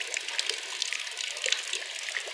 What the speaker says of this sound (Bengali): দেখুন এই যে পানি পড়তেছে